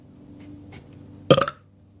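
A single short, croaky burp from a person stands out loud and close after a quiet stretch of faint background hum.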